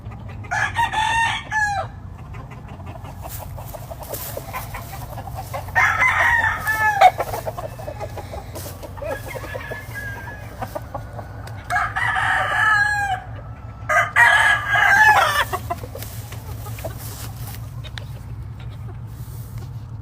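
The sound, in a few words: Roundhead chickens crowing and clucking on a farm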